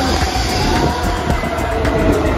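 A train rumbles past loudly and close in Rome, with a steady mechanical roar and faint rhythmic clatter of wheels throughout.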